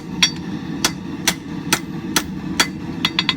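A hammer strikes hot steel while forging the handle of a camp knife: sharp ringing blows, close and loud, spaced about half a second apart, then quickening into a rapid cluster at the end.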